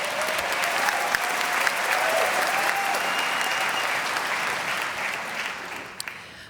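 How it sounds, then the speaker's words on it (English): A big crowd at an outdoor-scale college commencement ceremony in New York City applauds for faculty and administrators, a continuous even roar of clapping that stays steady, then thins out with a few last claps near the end. "Let's give our faculty and administrators a round of applause."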